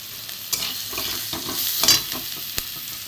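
Ground chili, turmeric, cumin and coriander spice mix fries in hot oil in a pan, with a soft steady sizzle broken by a few scraping stirs and one sharp clack of a spoon against the pan.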